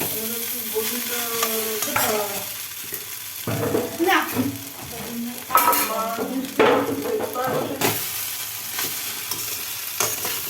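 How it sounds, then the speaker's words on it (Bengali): Chow mein noodles sizzle in a hot pan while a utensil scrapes and tosses them in bursts, with a voice audible at times. "এবার চাউমিনটা দিয়ে দিলাম, দিয়ে এবার সুন্দর করে নাড়তে"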